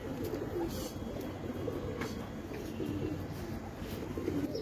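Pigeons at a fancy-breed pigeon loft coo softly in low repeated throaty calls, several birds overlapping at moderate distance over a faint background hum, with no voices.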